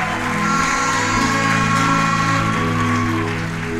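A church congregation at a miracle service claps and cheers steadily throughout, a dense, continuous wash of applause and voices with musical tones sustained underneath.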